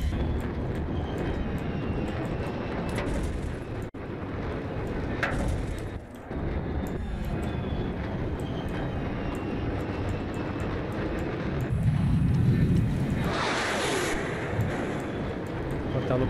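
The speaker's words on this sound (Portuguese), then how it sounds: "Jato." A jet aircraft roars past in a combat video game, a sustained loud engine wash that swells to a louder pass near the end, heard over constant game noise and gunfire.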